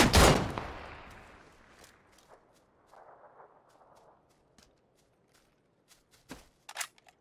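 Gunfire in a video game shootout: a loud close shot with a long decaying tail opens, followed by scattered sharper distant cracks and a brief burst of rapid fire near the end.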